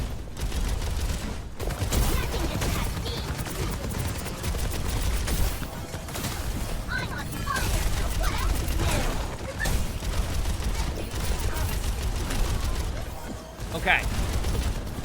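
Weapon fire in the video game Overwatch, with dense rapid automatic shooting and mechanical clatter running almost continuously under a player talking over it.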